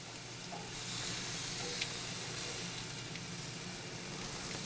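Shrimp kabobs sizzle steadily on a hot grill, a continuous close frying hiss with faint crackles that holds at an even level throughout, with no voices.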